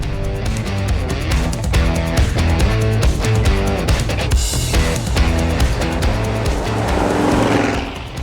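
A 1969 Ford Mustang Mach 1 driving on the road, its engine and road noise loud and steady throughout, with no talking.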